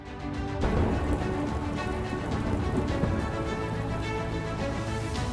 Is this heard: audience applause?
no